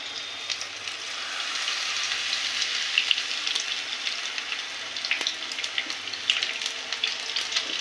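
Batter-coated pumpkin flowers fry one at a time for winter fritters, a close steady sizzle dotted with sharp popping crackles, without talk.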